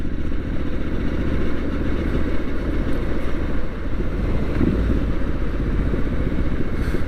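Triumph Street Scrambler 900 motorcycle being ridden, its engine a steady close rumble with continuous wind noise and no noticeable changes in pace.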